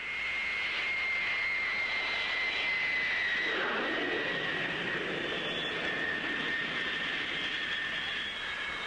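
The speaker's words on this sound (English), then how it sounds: "A parachute brake comes into operation to shorten the landing run." Avro Vulcan jet bomber rolling out on landing with its parachute brake deployed, a steady loud jet roar with a sustained high whine that swells briefly midway, continuous and close throughout.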